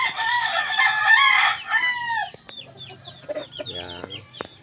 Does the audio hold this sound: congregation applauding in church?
no